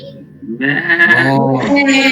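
A single goat gives a loud, close bleat, wavering and held for about a second and a half, with no other sound around it.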